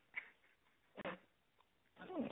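A dog gives short whimpering cries in three separate bursts, faint and somewhat distant, with quiet gaps between them.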